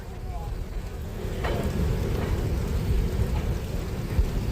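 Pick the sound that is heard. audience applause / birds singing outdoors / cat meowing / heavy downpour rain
heavy downpour rain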